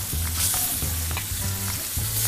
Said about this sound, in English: That's that sizzle we love, John.